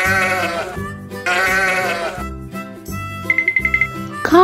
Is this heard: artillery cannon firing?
no